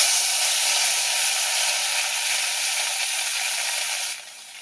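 Ground onion paste hitting hot oil gives a loud, steady sizzle and hiss close up that holds for about four seconds, then drops sharply to a quieter sputter.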